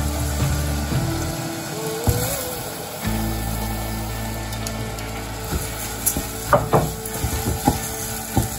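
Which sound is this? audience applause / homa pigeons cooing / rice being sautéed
rice being sautéed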